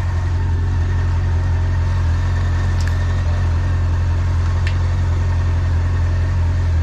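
A Honda Nighthawk 750 motorcycle with a weak battery runs at a steady idle, its even low engine rumble continuous, with two faint metallic ticks in the middle.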